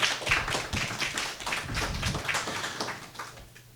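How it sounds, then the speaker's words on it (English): An audience at a Syracuse housing panel at ArtRage applauds a woman: a dense, steady patter of many hands clapping together that fills the room at close range for the whole stretch. "please, let's give her a round of applause"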